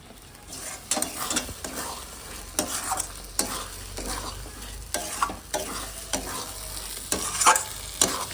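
Mutton curry frying in a pan as slit green chillies go in, a steady sizzle broken by repeated scraping stirs at a fairly even rhythm, close and moderately loud with no talking.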